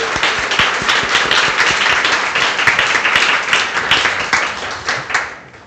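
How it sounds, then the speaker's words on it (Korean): Church congregation applauding during a Sunday worship service, steady dense clapping from many hands, loud and sustained with little talk, fading slightly at the end. "우리 수고해달라고 우리 박수합시다."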